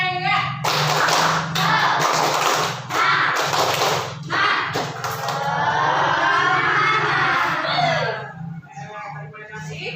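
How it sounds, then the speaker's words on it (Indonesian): A classroom does a rhythmic spirit clap together, bursts of many hands clapping in quick patterned groups, loud and close over a steady low hum, ending with a voice speaking. "Tepuk semangat."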